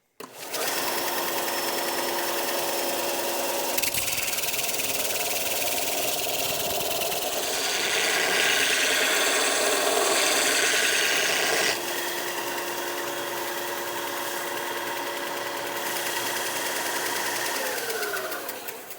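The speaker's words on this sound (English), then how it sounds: "we'll bring this over to the belt sander. We'll get all these edges cleaned up and rounded off" Belt sander grinding and rounding over the edges of fabricated steel parts for a grapple build, a loud continuous motor whine with harmonic tones that swells brighter and grittier midway as metal is pressed harder against the belt.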